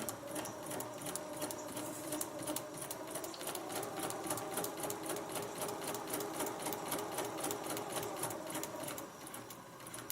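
A sewing machine stitches steadily on a small bag, a fast, even rattle of needle strokes heard up close and fairly loud, running continuously before easing off near the end.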